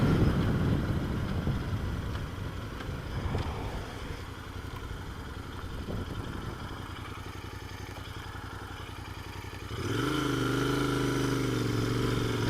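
A Royal Enfield 650 Interceptor motorcycle running, its engine rumbling steadily with a rise in revs near the end, heard up close over a rushing background.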